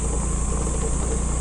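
A motorcycle engine runs steadily while riding over a rough, rocky road near falls in Tiaong, Quezon, a loud, constant mid-pitched drone with no talk.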